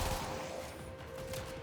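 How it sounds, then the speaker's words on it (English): Sustained rapid fire from a fully automatic Sister rifle in Warframe, a steady rattling stream of shots at moderate loudness throughout the short stretch. "It is a automatic rifle."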